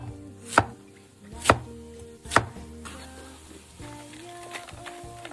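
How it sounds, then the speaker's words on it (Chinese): A kitchen knife chops tender white winter radish into roll-cut chunks on a board, three loud sharp whacks spaced about a second apart, followed by lighter scraping and softer cuts. "再给它切成滚刀块"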